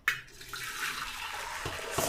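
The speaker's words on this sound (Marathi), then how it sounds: "इकडे मी मोठा पातेला घेतलेला आहे, त्याच्यामध्ये गरम केलेलं पाणी वतायचं" Heated water is poured into a large cooking pot for rice flour kurdai dough, a short hissing splash that begins abruptly and trails off, close and fairly quiet.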